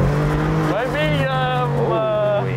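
A Maserati MC20 Cielo drives off, its engine note climbing through two rising revs over a steady low drone, loud and close.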